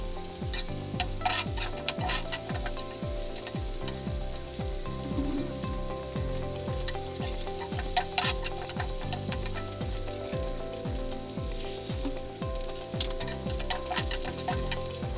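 A cracked egg mixed with chili while frying for quick spicy noodles, with a continuous hiss of hot oil under repeated rhythmic scraping and clicking strokes from a utensil, close and steady throughout.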